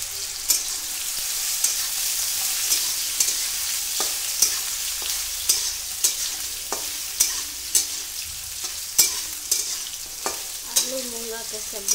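Food sizzles steadily in hot oil in a home kitchen pan, with regular sharp stirring clanks and scrapes every second or so, while potato and chicken curry is being cooked; no talking.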